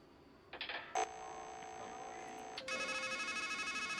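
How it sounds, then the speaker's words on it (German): Telephone tones in the video game Strangeland: a short electronic beep, then a sustained dialing tone, followed by a pulsing ring tone that repeats steadily to the end. "Wir brauchen ja ein Taxi, also müssen wir telefonieren."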